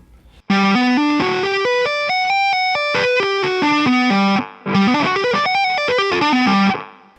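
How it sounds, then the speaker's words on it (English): Electric guitar with distortion plays a string-skipping tapped dominant 7th arpeggio up and back, the notes fast and evenly spaced, rising then falling in two loud phrases separated by a brief pause. "Played up and back, the arpeggio sounds like this."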